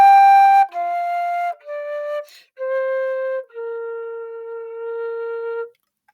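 Solo melodic instrument plays a phrase from Peer Gynt's Morning in a decrescendo, a few clear sustained notes that start loud and fade steadily softer, ending on a long quiet held note.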